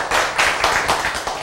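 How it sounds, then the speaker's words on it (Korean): Audience clapping at a spiritual lecture, a dense burst of many hands in steady rhythmic waves, fairly loud and close, with no talk over it. "그래서 여러분이 지금 박수를 많이 쳤습니다"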